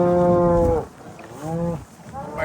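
Cattle on a ranch during a winter storm, mooing loudly in three long drawn-out calls separated by short pauses, close by with no talk.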